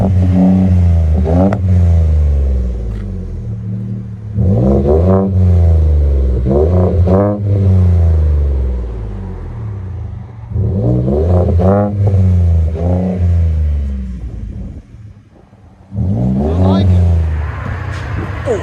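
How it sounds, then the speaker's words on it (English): A 2019 Ford F-150 XLT EcoBoost with upgraded turbos, a Vibrant resonator and a 4-inch MagnaFlow bolt-on exhaust revs in several deep, rising bursts, each climbing and falling back to a low idle, loud and close, with talk between pulls. "F-150 Ecoboost with vibrant resonator and 4-inch MAGNAFLOW bolt-on system"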